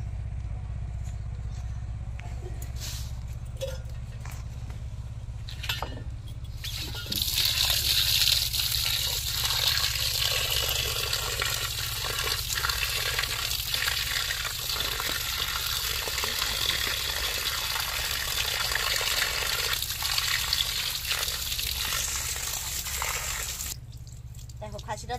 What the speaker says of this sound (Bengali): দেখো খাসিটা তো ধোয়া হয়ে গেল, এবার রান্না করব।